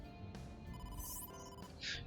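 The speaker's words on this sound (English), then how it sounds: "Oh, phone call." A phone rings in the video game AI: The Somnium Files as an electronic ringtone with steady tonal bursts over a busy game soundtrack, loud and close, with no one speaking.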